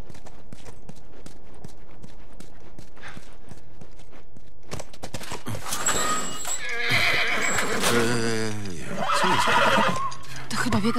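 A horse in The Last of Us video game whinnies loudly and snorts, with steady clip-clop of hooves through most of the stretch, while people talk over it.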